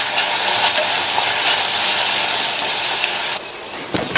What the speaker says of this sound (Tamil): இந்த வெங்காயத்தை கண்ணாடி பதம் வர வரையும் வதக்கிக்கங்க.